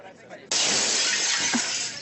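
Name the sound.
mirror being smashed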